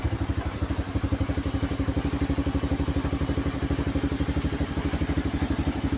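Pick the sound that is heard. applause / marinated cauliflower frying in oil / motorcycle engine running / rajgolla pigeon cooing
motorcycle engine running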